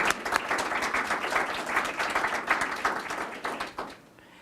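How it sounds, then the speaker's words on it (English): A county budget meeting audience gives a round of applause for director Adam Ortiz, with close, lively clapping from a modest crowd, individual claps distinct, continuing steadily before stopping abruptly into near silence. "So if we can give our director, Adam Ortiz, a round of applause for doing it."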